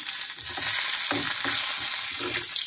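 Peanuts and curry leaves fry in hot oil, a steady close sizzle with a few crackling pops and the occasional stir, no talking.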